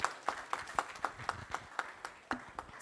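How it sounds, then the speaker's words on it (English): Small conference audience clapping in a regular, evenly paced rhythm, about a dozen distinct sharp claps close to the microphone, with a quiet room behind. "Big clap for the lovely case discussion"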